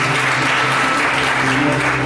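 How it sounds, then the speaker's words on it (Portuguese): Loud, steady applause from a church congregation fills the sanctuary as a dense, continuous wash of clapping with no gaps from start to end. "Vamos aplaudir o Senhor."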